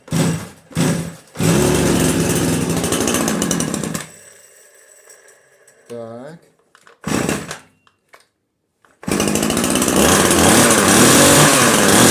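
A Goodluck gasoline chainsaw starts with a couple of short bursts, then roars loudly, drops to a sputtering idle, cuts out, and revs back up to a loud roar.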